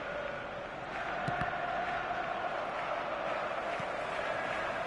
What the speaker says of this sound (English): the crowd clearly like what they just saw